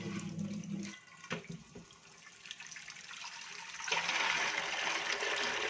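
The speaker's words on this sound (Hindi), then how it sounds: "एक हल्का सा वॉश और दे लेती हूँ ताकि ये सोडे का पानी अच्छी तरह से निकल जाए।" Tap water runs over soaked chickpeas being rinsed to wash off soda water, starting with short splashes and rising into a steady, loud gush of running water in the second half.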